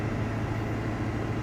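A 25-year-old truck climbs a steep hill, its steady low engine drone and road rumble filling the cabin at an even level throughout, with no voices.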